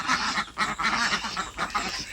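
Ducks on a duck farm quack in a dense, overlapping chorus, with repeated loud bursts in a steady rhythm throughout.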